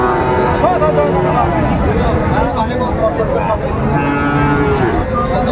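A Friesian or cross-breed bull calf at the Raniganj cattle market lows in long, loud, nearby moos while other cattle call and people chatter and bargain all around.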